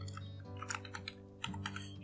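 Keys clatter quietly on a computer keyboard in a few quick, irregular taps over a low steady electrical hum, with no voice.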